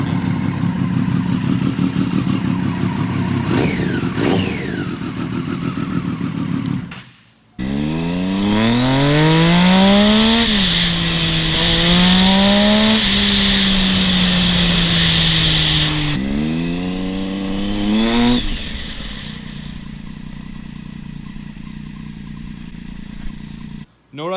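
Triumph Daytona 675 sport bike engine fires up and revs, rising and falling pitch sweeps through a loud, close run with a steady high whine, after a stretch of talk over a background hum.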